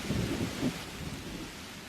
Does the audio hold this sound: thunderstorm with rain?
yes